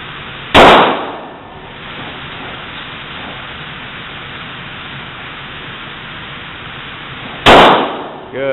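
Two loud, sharp gunshots ring out at an outdoor shooting range several seconds apart, each followed by a brief echoing tail, with quieter background noise in between.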